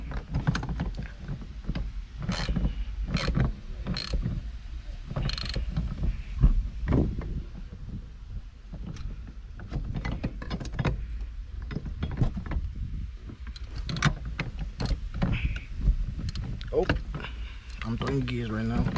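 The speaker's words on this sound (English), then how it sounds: "Oh, I'm throwing gears right now." A new short shifter in a 1995 Mitsubishi Eclipse GST Turbo is worked through the gears, giving close mechanical clicks, knocks and clunks in irregular bursts, with someone talking over them at times.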